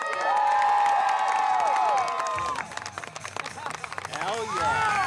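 A crowd at a jousting tournament claps and cheers for a knight, with broad applause and shouts rising over an announcer's lingering voice and music.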